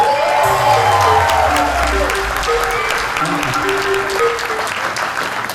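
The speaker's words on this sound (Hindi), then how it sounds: "Yeah, you can clap. I like it." Convention audience claps loudly and continuously, a dense wash of applause with some cheering from a large crowd in a hall, while a voice speaks over it.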